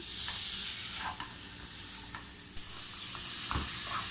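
Half a kilo of chicken frying to light brown in a pan with onions, a steady close hiss of sizzling oil broken by a few soft stirring scrapes.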